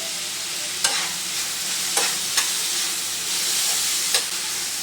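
Chili powder frying in a pan for egg gravy gives a steady, bright sizzle with a few soft clicks from stirring, close and even, alone without talk.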